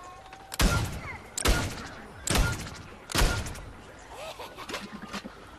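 Shooting in the video game Plants vs. Zombies Garden Warfare, four loud spaced blasts about a second apart followed by lighter rapid shots, with no talking.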